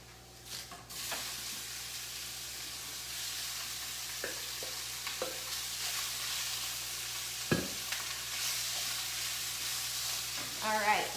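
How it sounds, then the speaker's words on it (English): Shrimp goes into a pan with garlic and fries in a soft, continuous sizzle, broken by a few light scrapes and taps of stirring. "And then we'll add all of our shrimp."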